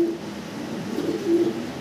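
Fancy pigeons, two hens from the same loft, coo softly and close by in a short burst of low, rolling calls repeated twice.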